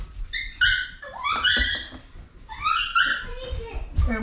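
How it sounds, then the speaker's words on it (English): A dog yelps, whines and whimpers excitedly in a home kitchen as its owner arrives, producing high-pitched cries in quick rising bursts close by, mixed with people talking. "That dog goes crazy when Brandy gets home"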